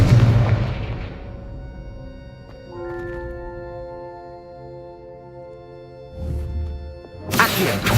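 Confringo fire spell blast in the video game Hogwarts Legacy, a sharp booming impact that decays into a ringing magical tone, followed by another loud burst near the end.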